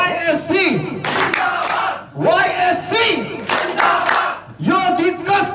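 A large crowd at a Nepali youth football gala and dance show in the UAE chants "zindabad" in loud repeated waves while clapping along, voices rising and falling together in close, energetic bursts.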